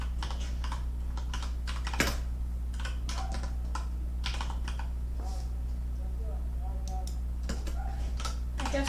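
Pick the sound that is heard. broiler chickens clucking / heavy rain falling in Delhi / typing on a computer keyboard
typing on a computer keyboard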